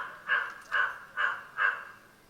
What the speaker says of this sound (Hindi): सवेरे से जान ले कौआ यही रटत रहा